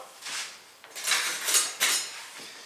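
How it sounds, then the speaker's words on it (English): Metal utensils rattle and clink as a flat spatula is pulled from a holder, several quick scraping clatters close by, no talking. "let me grab a flat spatula"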